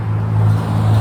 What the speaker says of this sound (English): I can't help that there's a lot of traffic on this street right now.